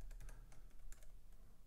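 Quiet typing on a computer keyboard, a short run of light, irregular key clicks close by, with no voices.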